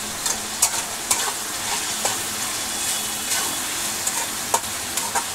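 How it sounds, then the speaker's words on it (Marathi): Curry leaves and seasoning are roasted in a pan for a dry moth bean dish, giving a constant close sizzle with scraping stirs and a few sharp ticks of a spatula against the metal. "आता भाजून घेते"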